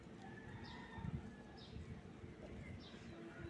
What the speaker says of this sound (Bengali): পাখি।